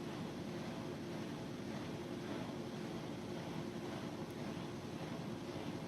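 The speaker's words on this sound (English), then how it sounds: "Is the washing machine too loud?" A washing machine runs in the background of a room during a live art stream, a steady, broad whooshing hum held at low level throughout, with no talk over it.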